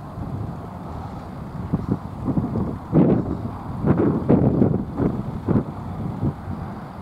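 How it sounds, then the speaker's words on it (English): Low, rumbling wind buffeting the microphone, with gusty bursts swelling and fading throughout; no one speaks. "pretty windy. Hopefully you can hear me"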